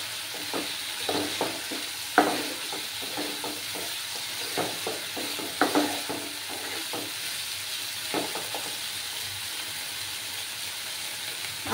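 Tomatoes frying with ginger and garlic in a pan, a steady sizzle throughout with repeated scraping stirs and a few sharper clinks of the spoon against the metal, close and moderately loud.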